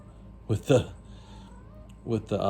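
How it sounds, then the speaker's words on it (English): A cat meows twice, close by, in short vocal bursts separated by a quiet pause, with a faint electronic tone running under it. "okay, cat."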